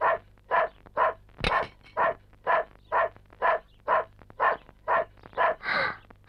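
A dog gives a long run of about twelve regular, evenly spaced barks at moderate distance, with one sharp knock partway through and a slightly drawn-out final bark.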